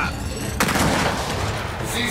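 Sniper gunfire in the video game Gears of War 4: a sharp shot followed by a dense burst of loud, continuous firing and combat noise that fills the rest of the moment.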